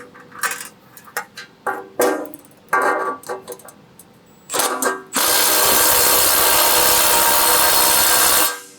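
A nut on a crater maker dimple die is snugged with a 1/2 inch wrench and 1/2 inch impact socket, giving a string of short metallic ratcheting clicks, then a steady loud whirring burst of about three seconds from a power tool.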